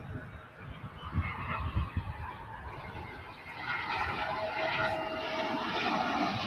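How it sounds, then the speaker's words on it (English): A jet airliner taking off or landing at Dallas/Fort Worth (DFW) Airport makes a steady, broad roar that swells louder in the second half, heard from a distance with no voices. "If you like watching planes taking off and landing"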